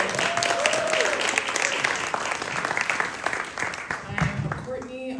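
An audience at a film talk in a community center applauding, dense steady clapping filling the room for several seconds, with a voice speaking over it.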